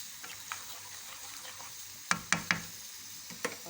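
Spices with turmeric frying in a pan for Lahori chole, a soft steady sizzle underneath while a spoon scrapes and knocks against the pan in a few sharp, close strikes, quieter stirring before them.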